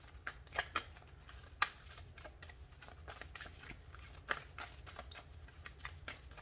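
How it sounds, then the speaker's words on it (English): An oracle card deck being shuffled up close, crisp riffling bursts and soft flicks repeating in quick irregular rhythm, no talking. "It just shuffles so nice."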